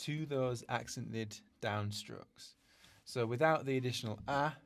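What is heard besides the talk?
None of the usual background noises is heard.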